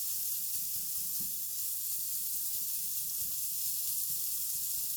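Ground turkey sizzles steadily in a pan for turkey chili, with soft repeated scraping and stirring strokes over a constant frying hiss, close and alone.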